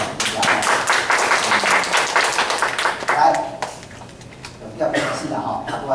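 Audience at a Taiwanese-language lecture on Taiwanese culture clapping in a burst of close, dense applause that thins out midway, then picks up again briefly, with some voices mixed in.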